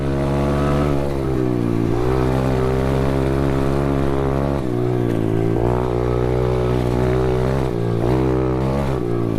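Small SSR pit bike engine, built from SSR70, SSR125 and SSR140 parts, revving hard in third gear, a loud steady buzzing drone that rises and dips with the throttle, close by and continuous.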